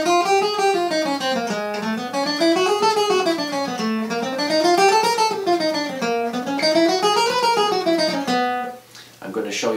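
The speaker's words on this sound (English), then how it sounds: "it's a major scale, and it's on the three thinnest strings of the guitar" A major-scale warm-up on the three thinnest guitar strings rises and falls in a steady, even stream of single notes, repeating the up-and-down pattern several times.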